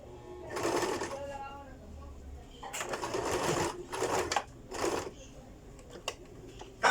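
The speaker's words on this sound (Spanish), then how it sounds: "ahí entonces procedemos a hacer nuestra costura." Sewing machine stitching a welt pocket, running in a few short bursts of several seconds with brief pauses between them, close and moderately loud with no talk over it.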